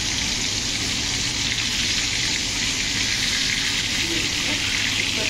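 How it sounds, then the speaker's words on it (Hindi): Pieces of salmon fry in a pan with a steady, even sizzle that holds at the same level throughout, close and dense, with no breaks. "इस तरह से मैं इसको फ्राई कर रही हूँ"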